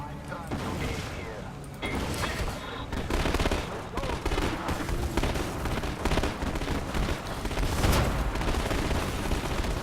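Dense, continuous combat in the video game Command and Conquer: rapid gunfire and repeated booming explosions layered together, loud and unbroken throughout.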